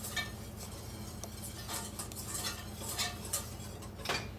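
A spoon stirs real vanilla into buttermilk syrup, making steady light clinks and scrapes against the pot over a low constant hum, close and fairly quiet.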